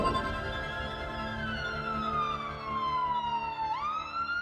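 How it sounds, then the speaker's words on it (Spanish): An ambulance siren wails in a long falling glide as it passes, its pitch sliding steadily downward and then jumping up briefly near the end, heard clearly with no voices. "Cuando una ambulancia se acerca a nosotros, la longitud de onda de la sirena se comprime"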